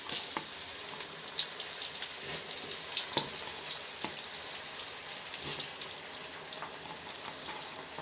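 Steady crackling sizzle of tapioca frying in hot oil, with soft pops and faint stirring sounds, fairly quiet and continuous.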